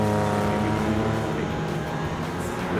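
An engine drones steadily in a Land Cruiser racing video game replay, a continuous loud hum with a slight falling pitch, heard alone.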